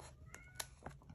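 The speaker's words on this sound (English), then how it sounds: "that's my little cat in the background, Oreo" A pet cat meows insistently from behind a closed door, several short cries spaced across a second, muffled and moderately close against low room noise.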